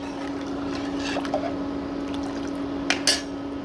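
Milk is stirred in a pot with cardamom powder while cooking semolina rasmalai, giving soft liquid swishes over a steady background hum, with a couple of light clinks of the utensil.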